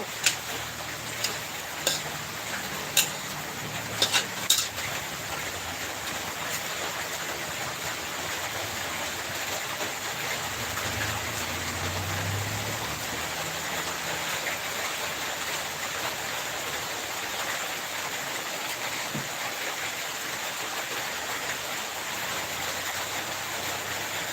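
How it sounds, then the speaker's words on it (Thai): Steady broadband rain hiss during a storm, with a few sharp clicks and ticks near the start, continuous and fairly even in level throughout, with no talking. "ฝนก็ตก พายุก็เข้า"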